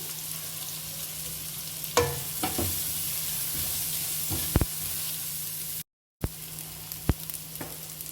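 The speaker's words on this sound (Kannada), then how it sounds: "ಒಂದು ಮೀಡಿಯಂ ಸೈಜು ಈರುಳ್ಳಿ ಹಾಗೆ ಕರಿಬೇವನ್ನ ಹಾಕೊಂಡು ಫ್ರೈ ಮಾಡ್ಕೋಬೇಕು" Medium onion and curry leaves fry in hot oil for a mutton masala curry, a steady close sizzle broken by a few sharp utensil taps and stirring scrapes, with a brief silent gap near the end.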